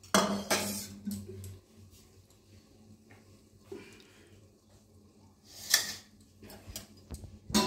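A lid lifted off a cooking pan of tomato chutney with jaggery clinks sharply against the metal rim in two bright, close knocks, with quieter kitchen clatter between them and no one talking.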